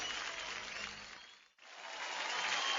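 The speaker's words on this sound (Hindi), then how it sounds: "मौसम जोरदार तालियां for सवाई घाट।" Broad clapping from a TV singing competition audience, fairly quiet, briefly cutting out near the middle before resuming and swelling toward the end.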